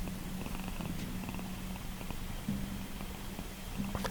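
Steady, close cat purring runs throughout, a low continuous rumble with soft rhythmic pulsing and a few faint clicks in the background.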